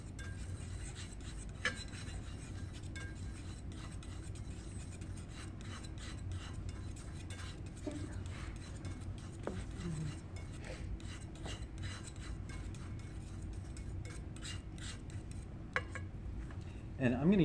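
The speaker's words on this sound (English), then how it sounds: "I'm gonna use a really scratchy, rough brush on this. And I'm gonna apply it in really rough brush strokes." Scratchy, rough brush dragging China paint thinned with oil onto ceramic in rough strokes, a soft, close rasping scrape repeated in short uneven passes, ending with a faint brief clink.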